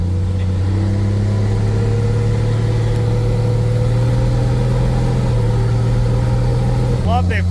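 A semi truck's engine drones steadily and loudly while driving, a deep low rumble with a constant pitch that holds throughout and drops off abruptly near the end.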